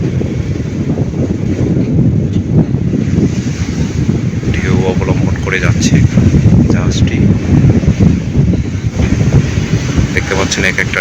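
Sea waves and strong wind aboard a ship crossing from Chittagong to Hatiya, a constant loud roar of wind buffeting the microphone over surging water, with voices talking beneath it.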